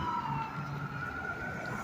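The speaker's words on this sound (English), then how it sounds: "As you see, an ambulance now is heading over that way." An ambulance siren wails along the Las Vegas Strip, a steady tone carrying over constant street and traffic noise at moderate distance.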